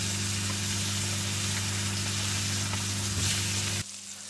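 Baltic herring coated in rye flour frying in a pan, a dense even sizzle over a steady low hum that cuts off near the end, leaving a quieter tail; no talk.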